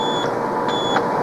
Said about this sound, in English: It's a beeping sound.